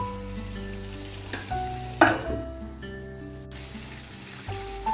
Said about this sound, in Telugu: మీడియం ఫ్లేమ్లో వంకాయలు మెత్తగా మగ్గిపోతాయి